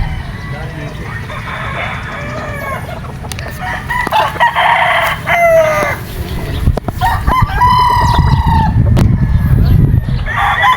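A straight-comb super brown red gamefowl rooster crows loudly and close by, several full crows mixed with clucking from other birds on a farm, while someone talks over the sounds.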